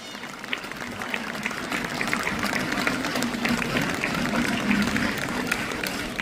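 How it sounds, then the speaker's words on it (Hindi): Sustained applause from a stadium crowd at a mango festival, a dense steady wash of clapping holding at an even level for several seconds. "और एक बार जोरदार ताली टूरिज्म डिपार्टमेंट के लिए और कॉरपोरेशन के लिए बजती रहनी चाहिए थोड़ी देर तक ये तालियां।"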